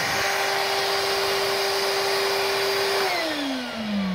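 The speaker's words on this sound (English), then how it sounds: "Just show people here, Alfie, this is the wet section and that's the vacuum section" A Numatic George multi-use wet-and-dry vacuum cleaner runs steadily while cleaning artificial grass outdoors, a loud continuous whine and airy roar with a sustained tone that drops in pitch near the end, no voices.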